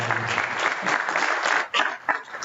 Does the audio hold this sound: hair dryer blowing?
no